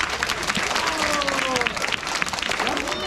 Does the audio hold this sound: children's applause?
yes